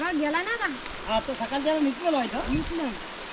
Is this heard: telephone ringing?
no